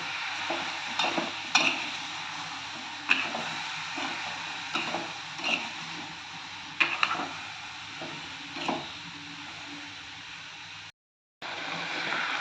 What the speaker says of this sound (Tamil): அடுப்பை சிம்மில் வச்சு கிளறி கொடுத்துக்கலாம்